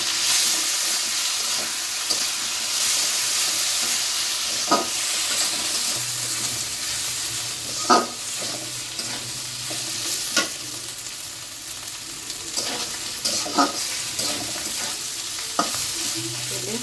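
Ginger and green chili paste fries in a pan with cumin and garam masala, giving a steady close sizzle with intermittent scraping strokes of stirring and a low hum underneath.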